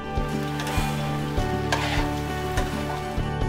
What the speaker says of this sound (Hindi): अब इसमें धोए हुए चावल और दाल डालकर कुछ देर भूनें।